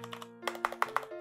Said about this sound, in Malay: Bunyi dia pun akan jadi lagi kuat compare dengan keyboard biasa, dengan keycap biasa.